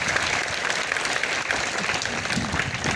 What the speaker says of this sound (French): On les applaudit encore très fort.